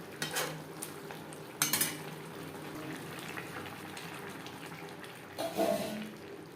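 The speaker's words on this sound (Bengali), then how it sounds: "ধনে পাতা কুচি বেশ ভালো করে মিক্সড করে দেব" Scraping and clinking of a utensil stirring a bottle gourd and fish head curry in a pot, with a few sharper metallic knocks against the rim amid a low cooking hiss.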